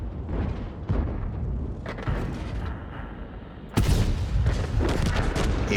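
Tank cannon shots in World of Tanks, booming blasts over a constant rumbling battle ambience, with a louder, sharper shot near the end followed by sustained roar; no talk.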